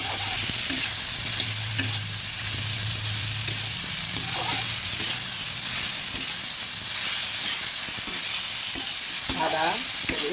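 Ginger, turmeric and salt fry in a pan for red spinach charchari, a dense close sizzle with repeated spatula stirring and scraping, steady and loud throughout.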